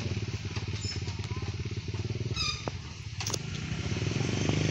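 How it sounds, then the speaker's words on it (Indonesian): Motorcycles crossing the old Dutch-built 1926 Tonjong bridge in Bogor, a continuous buzzing engine drone with clattering rattles and a couple of brief sharp noises, fairly faint and distant. "terlihat teman-teman banyak kendaraan bermotor karena memang jembatan ini bisa dilalui untuk motor ya"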